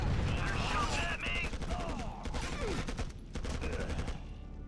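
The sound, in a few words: gunfire from the video game Act of War: Direct Action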